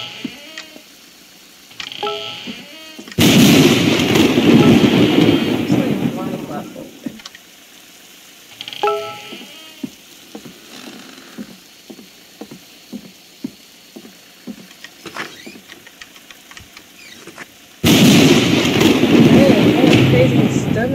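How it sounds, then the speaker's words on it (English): A heavy thunderstorm in the Roblox game Blackthorn Forest, with loud bursts of pouring rain and thunder at the start and end and quieter stretches between where a voice talks. "crazy thunderstorm."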